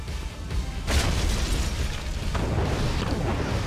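Naval gunfire and explosions in a Command & Conquer mission, with dense, continuous rumbling booms and a sharp blast near the start, loud and without pause.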